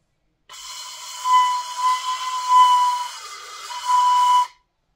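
A 3D-printed flute modeled on Noah and Mio's instrument from Xenoblade 3 gives a breathy, airy note with a thin whistling tone that wavers and swells for about four seconds, then stops abruptly.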